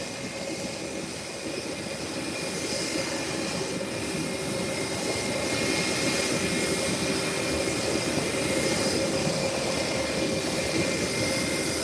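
A JetBlue Airbus A319 jet at the airport gives a steady, loud broadband engine roar that holds throughout and swells slightly toward the end, with no talk over it.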